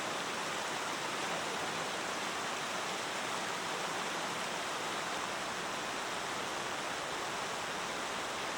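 Steady rushing water of a flowing river at a hiking trail crossing on Mount Hale in the White Mountains fills the clip, a constant broad hiss with no pauses or voices.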